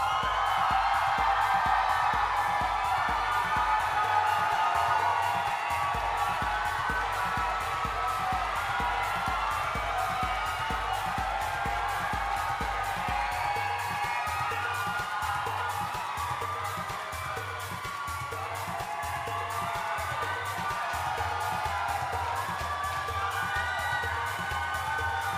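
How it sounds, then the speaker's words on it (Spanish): Audience at a Miss República Dominicana Universo coronation gala applauds and cheers loudly and steadily, a dense wash of clapping with whoops and shouts sustained throughout, no speech. "Fuerte el aplauso para Melissa Domínguez"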